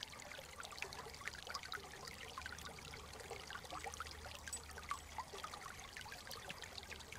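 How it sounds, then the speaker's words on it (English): Water from a forest stream trickles and pours over old logs in a fire-damaged woodland, a steady close babbling wash with small splashes throughout and no voices. "I don't know if there's any more peaceful Zen sound than water going over old logs."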